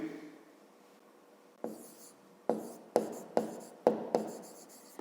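Writing on a board while working out a fifth-grade math problem: six sharp tapping and scratching strokes in an irregular rhythm that speed up toward the end, close and clear, after a quiet start, with no talk.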